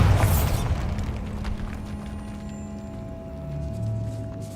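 A Bombarda spell blasts in Hogwarts Legacy, opening with a loud low boom that fades into a rumbling, crackling tail and lingering resonant tones, with no one talking over it.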